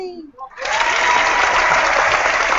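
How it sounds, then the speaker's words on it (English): A talk-show host claps for a guest on set, a sustained burst of steady hand clapping that starts abruptly after a brief spoken exclamation and continues close and loud. "Let me clap for you."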